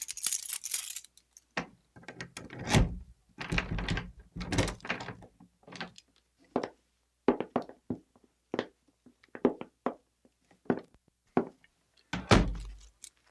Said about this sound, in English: let me unlock the door and we'll go in